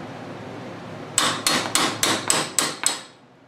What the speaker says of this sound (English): I'm working on that nut still, and found myself a little chisel.